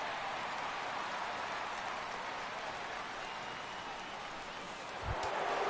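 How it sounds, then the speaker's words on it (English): Steady rain falls across a baseball stadium in MLB The Show 16, a constant broadband hiss throughout with a brief low thump near the end, no talk over it. "the rain continues to fall here"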